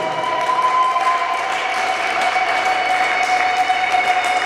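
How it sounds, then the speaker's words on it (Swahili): A church congregation at a Swahili worship service claps steadily, with high trilling ululation ringing above the applause. The sound is loud, continuous and close, filling the space throughout. "piga tena makofi na vigelegele kwa utukufu wa Yesu Kristo"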